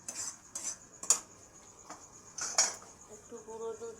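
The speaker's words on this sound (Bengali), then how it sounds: "একটু গুঁড়ো দুধ দিলাম, অল্প করে 1 চামচ দিয়ে ভালো করে এটাকে নেড়ে" A spoon stirs milk in a metal bowl for Bengali basmati rice kalakand sweets, clinking repeatedly against the sides in irregular light strokes, close and moderately quiet.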